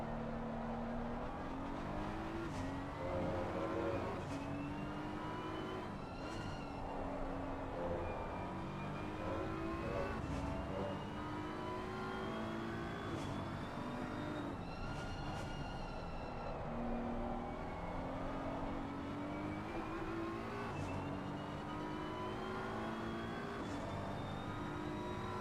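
Onboard race car engine at Brands Hatch in Assetto Corsa Competizione, a continuous loud roar rising through the gears with repeated upshifts and drops on braking, lap-long and without talk.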